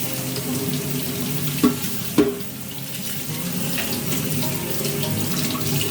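Tap water runs steadily into a kitchen sink during a rinse, a continuous rushing splash with two brief louder knocks partway through and no talking.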